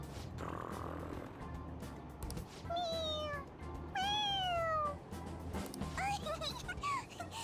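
A cat in Persona 5 Royal meows several times in short rising and falling calls, clear and close over soft game background sound, with a person talking around it.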